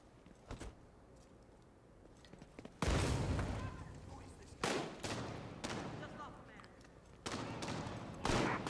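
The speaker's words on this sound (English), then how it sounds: "You see the recoil right there, stability on the lightweight M4." Lightweight M4 rifle fire in the video game Division 2, loud bursts of automatic gunfire broken by short pauses, with quieter stretches between volleys and no voices.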